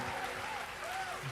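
Church congregation cheering and applauding during a Sunday worship service, a steady wash of clapping and voices that stays loud and even throughout.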